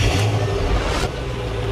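A brief, loud engine rev from a Shelby GT500 swells and then eases off in a single close burst.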